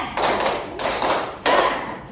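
A fifth-grade class does the 'tepuk semangat 3' clapping chant in a classroom, producing three loud, closely miked bursts of collective rapid clapping with short gaps between them and no talk.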